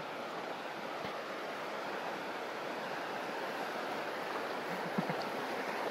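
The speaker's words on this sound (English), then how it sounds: "It's been raining all night, so it's a lot of water in the river." A river running high and fast after a night of steady rain, with white water rushing and churning beside a bridge in a constant, dense wash that stays even and close throughout.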